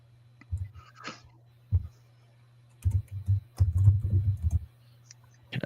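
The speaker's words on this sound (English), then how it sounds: "I hear typing." Clicks and taps from a computer keyboard during an online quiz game, coming in short irregular bursts, quiet and fairly close, with a low steady hum running underneath.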